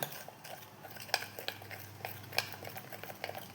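A spoon stirring a fruit mixture in a bowl, with light repeated clinks and scrapes at an irregular rhythm, faint and close, with no talk.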